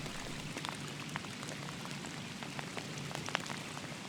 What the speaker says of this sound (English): And then the rain arrived. A lot of rain.